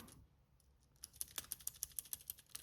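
Typing on a computer keyboard, with a few scattered taps and then a quick, even run of crisp key clicks at close range in a quiet room.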